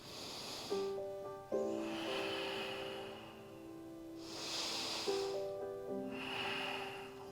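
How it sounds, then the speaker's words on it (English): Slow, deep breaths during a yoga session, audible nasal inhales and exhales in several long cycles, close and soft over a faint tonal hum in the background. "Take in a couple of breaths"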